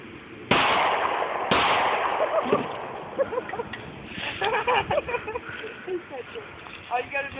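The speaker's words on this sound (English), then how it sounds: "That's a firework." A firework goes off with two sharp bangs near the start, followed by crackling and rustling under ongoing talk from people nearby.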